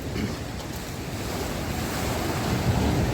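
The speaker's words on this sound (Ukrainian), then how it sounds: "І хвилі тут не такі потужні." Stormy sea surf breaks on the shore at Arcadia beach in Odesa, a continuous loud roar of crashing waves mixed with gusty wind buffeting the microphone.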